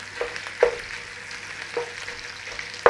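Cumberland sausage meat fries in a pan while being broken into clumps, a constant sizzle punctuated by several sharp utensil taps and scrapes at uneven intervals.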